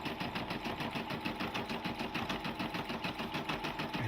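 A Brother combo sewing and 4x4-inch embroidery machine stitches a design, its needle chattering in a fast, even mechanical rhythm, close and continuous throughout.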